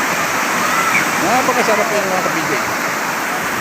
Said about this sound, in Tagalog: Ang ingay ng tubig po